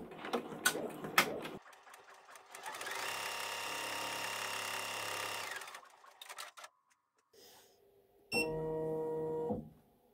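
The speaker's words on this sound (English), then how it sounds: "Now it'll do the placement stitch for the bookcase." Embroidery machine running a placement stitch on a quilt block, with quick clicks at the start, a steady humming stitch run of several seconds, a quiet pause, then another short stitching burst.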